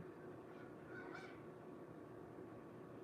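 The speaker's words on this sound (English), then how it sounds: "It's been a lot of geese recently." A few geese honking faintly in the distance at a park, two soft calls rising over a steady wash of outdoor background noise.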